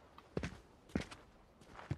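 Footsteps in the Fortnite video game, three or four distinct steps spaced roughly half a second apart, fairly close and clear with no talk.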